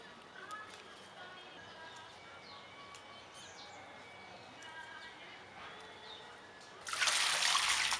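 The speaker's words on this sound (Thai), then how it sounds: "เทน้ำจุ่มไว้ก่อนให้เขาดูดน้ำเต็มที่จ้ะ" Water poured over chrysanthemum cuttings to soak them, a short, loud rushing pour bursting in near the end after a quiet outdoor background.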